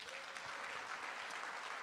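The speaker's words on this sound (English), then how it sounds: "Quick round of applause." A short burst of applause from the audience at a Seattle tech meetup, steady clapping at moderate volume with no talking over it.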